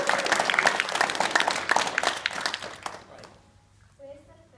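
Schoolchildren at a Christchurch school clap for a visiting New Zealand Davis Cup tennis player, a loud burst of many small hands that fades out after about three seconds, then a brief spoken voice.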